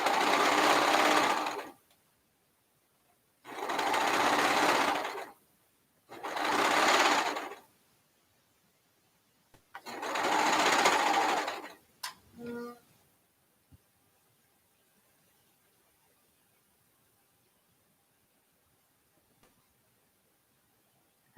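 A serger sewing machine runs in four loud, close bursts of a few seconds each, separated by pauses, then falls quiet apart from a few faint clicks.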